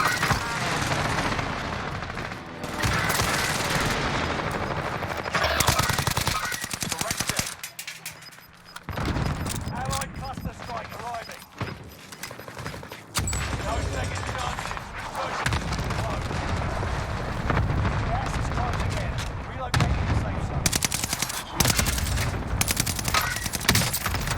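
Rapid gunfire in the Warzone video game with a modded weapon, dense bursts of loud shots almost continuous for most of the stretch, broken by a brief lull and mixed with other game noise.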